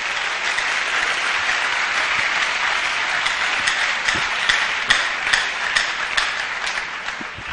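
A church congregation claps their hands in sustained, dense applause, steady and fairly close, with a few sharper individual claps standing out near the end.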